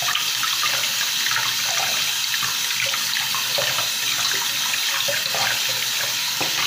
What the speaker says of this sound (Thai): น้ำที่เราใช้ก็เป็นน้ำเย็นนะคะไม่ต้องเปิดน้ำร้อนล้างเนาะ